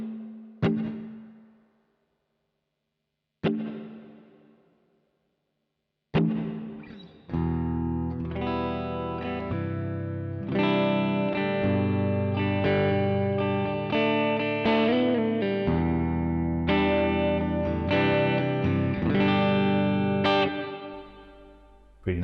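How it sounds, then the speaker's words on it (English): An electric guitar played through the hall reverb of a Keeley Supermod Workstation pedal: a few single struck chords ring out and decay, followed by sustained strummed chords with long, spacious tails. "the next one, number 7, is a hall reverb"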